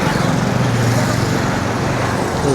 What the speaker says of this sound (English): The lorry is very scary.